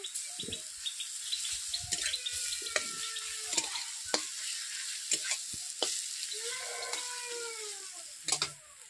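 Garlic paste fries with browned onions for a rui fish and pointed gourd curry, giving a quiet sizzle broken by sharp spatula scrapes and clicks, with bird chirps in the background.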